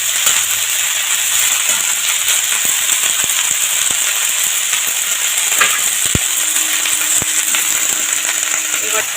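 Bottle gourd pieces frying in a pan, an even loud hiss of sizzling oil with scattered crackles and a couple of sharp knocks against the pan, close up, no talk.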